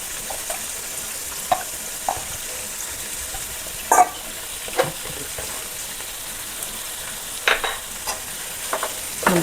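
Cabbage stir-fried for vegetable fried rice sizzles under a steady hiss, with scattered scraping stirs and clinks of a utensil against the pan at irregular intervals, close and moderately loud.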